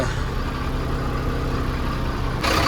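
A truck engine idles at night by a Maharashtra roadside, a loud, steady low drone close by that swells briefly at the very end, with no voices.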